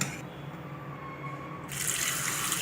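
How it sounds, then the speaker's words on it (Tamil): Blanched spinach and its hot water drained through a strainer into a pot, a close, steady pouring gush that grows fuller and louder toward the end, with no voices. "இப்போ கீரையை இதில் ஃபில்டர் பண்ண போகிறோம்"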